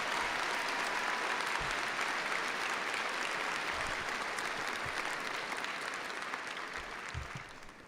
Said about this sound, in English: So let's give mothers and mother-adjacent folks a round of applause.